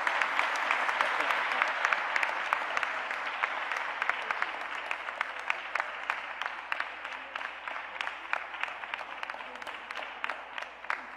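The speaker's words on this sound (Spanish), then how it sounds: "con el aplauso de todas y todos ustedes" An audience at a ceremony in Mexico City, with keys to the city being handed over, breaks into sustained applause, dense clapping heard at a distance and tapering slightly.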